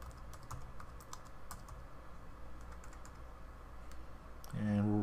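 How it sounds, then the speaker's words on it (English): Keys tapped on a computer keyboard to enter a 13-character password for Mac OS X internet sharing, a steady run of light clicks across the clip before a louder, denser sound cuts in near the end. "So we'll type in a 13-character password."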